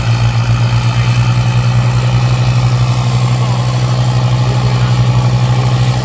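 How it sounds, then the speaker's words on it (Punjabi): A heavy diesel tractor engine pulling a trolley rumbles steadily at close range, with a low, even throb and no other sounds on top. "ਦੋ ਟਰੈਕਟਰਾਂ ਟਰਾਲੀਆਂ ਜਾ ਰਹੇ ਆ"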